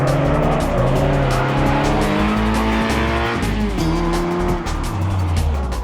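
Ariel Nomad with a 2.4-litre Honda K24 VTEC engine driving hard, loud and close, its engine note rising and shifting through gears while the tires squeal continuously throughout.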